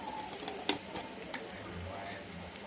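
Fish masala frying in a pan as turmeric goes in, a soft steady sizzle with a couple of light stirring clicks, fairly quiet and without speech.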